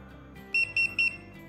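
A C-Fly Faith 2 drone controller gives three short, high, evenly spaced low-battery beeps, close and clear over faint background hum.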